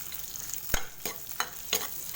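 Cubed capsicum and onions frying with whole spices and kasuri methi in a pan, a soft steady sizzle broken by a handful of sharp spatula scrapes at irregular intervals, close and fairly quiet.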